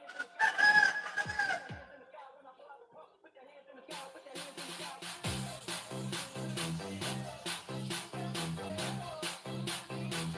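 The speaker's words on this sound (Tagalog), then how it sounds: "Ang ingay ng mga manok" A rooster crows near the start over a quiet background, then steady rhythmic music with a beat takes over for the rest.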